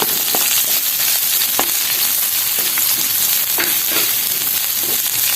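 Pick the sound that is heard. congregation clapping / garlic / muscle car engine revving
garlic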